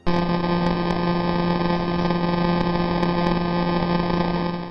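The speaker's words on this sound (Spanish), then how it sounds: "J0437 gira tan rápido que la señal suena como una abeja hiperactiva." The radio signal of millisecond pulsar J0437, spinning 174 times per second, forms a steady, loud electronic buzz with a constant pitch, a rapid pulse train blurring into a droning hum, unchanging for several seconds.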